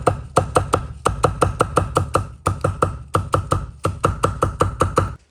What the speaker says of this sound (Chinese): 大葱切成葱花